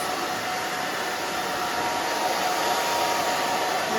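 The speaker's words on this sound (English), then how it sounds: "back and forth with the fingers, back and forth with the blow dryer" A blow dryer runs steadily on hair being dried back down after a pixie clipper cut, a constant close whooshing hum with no talk over it.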